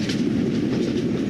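Passenger train running in a cartoon, a continuous loud rumble with steady rhythmic clatter of wheels, no talk.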